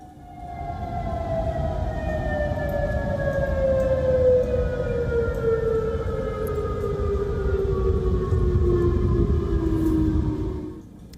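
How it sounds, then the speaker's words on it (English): A tornado siren wails across Chicago during severe storms with torrential rain, high winds and thunder: one long, loud tone that slowly falls in pitch and holds steady over a low rumble for about eleven seconds before cutting off. "severe storms activated tornado sirens"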